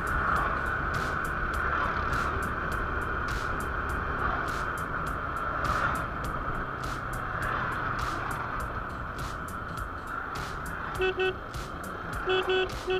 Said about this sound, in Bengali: ওরে বাবা, এটা সিএনজি নাকি শ্যালো মেশিন?